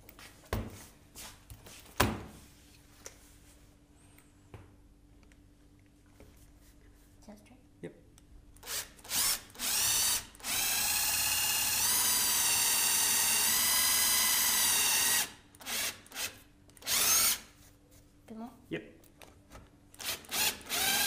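A power drill bores into wood for an Adirondack table, a sustained high whirring run of several seconds between shorter bursts and knocks, with people talking quietly around it.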